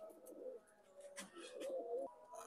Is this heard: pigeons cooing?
yes